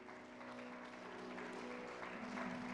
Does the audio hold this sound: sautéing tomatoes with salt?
no